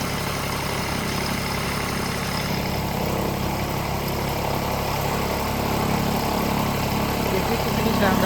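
An Eicher 50 HP tractor running a chaff cutter that cuts maize: a steady, loud mechanical drone of engine and spinning machinery, heard up close with occasional talking.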